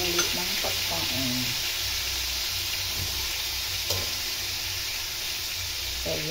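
Chicken tinola sautéing in a pan, a steady close sizzle and frying hiss running throughout with occasional soft stirring scrapes, no voices.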